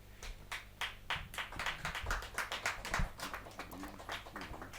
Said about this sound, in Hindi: जोरदार तालियां अच्छी बजें।